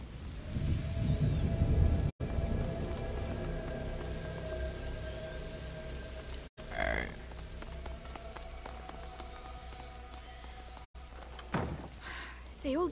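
Rain falling in A Plague Tale: Innocence, a continuous hiss of drops on surfaces with a low rumble underneath, broken by brief gaps and a few swooping game sounds.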